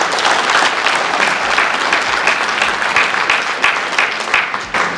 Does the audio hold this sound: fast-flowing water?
no